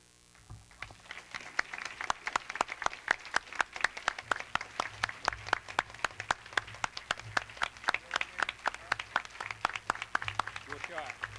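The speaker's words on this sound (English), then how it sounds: "I'd ask you to join with me in a round of applause for the person seated to my left" A large gala audience applauds together, a dense, steady round of clapping that builds in the first second and carries on evenly for about eleven seconds, with voices faintly underneath.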